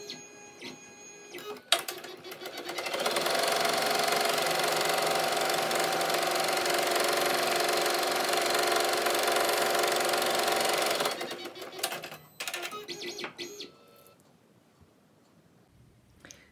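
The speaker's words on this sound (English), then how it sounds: "now we're going to go back to the machine and sew the tack down for the top fabric" Embroidery sewing machine stitching a tack-down line on face mask top fabric in the hoop, a loud steady mechanical whirring and rapid needle clatter running about nine seconds, then slowing and stopping with a few clicks.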